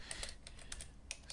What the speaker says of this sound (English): I will type image x scale